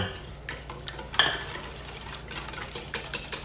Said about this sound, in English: go ahead and whisk those up a little bit